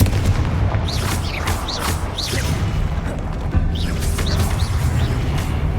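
Confringo spell explosions boom in Hogwarts Legacy, loud repeated blasts with whooshing, chirping magical effects rising over a dense rumbling game soundscape.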